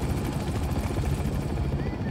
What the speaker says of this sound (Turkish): Bu helikopterin sesinden bizi algılayamıyor muhtemelen.